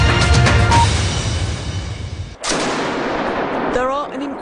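Gunfire in a firefight in Aleppo: loud, dense bursts of shots and blasts rumble close and continuous, briefly cutting out before resuming, with a faint whistling tone near the end.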